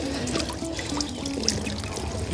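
Water rushes from a pond pump nozzle set to a strong flow. A steady pouring, trickling splash runs close and continuously, with no talk.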